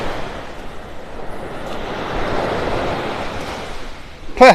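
Ocean surf rolls steadily onto the sand at Vanderbilt Beach in North Naples, Florida, a continuous broad wash with gentle swells and some wind buffeting the microphone, ending in a brief louder gust or bump.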